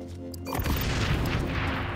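A frag grenade blast in the first-person shooter XDefiant lands after a brief quiet moment, a deep booming explosion that rolls on as a loud sustained rumble.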